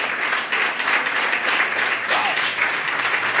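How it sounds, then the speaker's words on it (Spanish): A church congregation claps in sustained, loud applause, a dense unbroken patter of many hands that holds steady from start to finish. "Den un fuerte aplauso a nuestro Dios."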